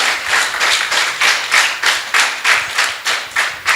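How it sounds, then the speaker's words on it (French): Applause for panelists on a talk show set, close and loud rhythmic clapping in even, regular beats, almost like synchronized clapping, with no talk over it. "Est-ce qu'on peut applaudir pour nos panélistes,"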